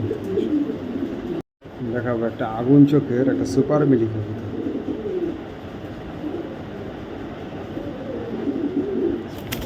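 Racing pigeons of a foreign bloodline coo in low, throaty rolling calls close by, while someone talks over them.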